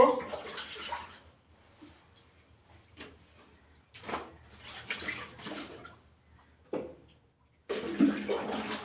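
Water sloshes and splashes in bursts as a wool sweater is washed by hand, with quieter gaps between the louder washing movements.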